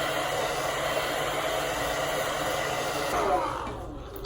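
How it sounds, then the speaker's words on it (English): A handheld hair dryer blows steadily on wig glue, a continuous close whooshing roar that holds for about three seconds before easing off near the end. "Now I guess I'm going to like hair dryer it a bit."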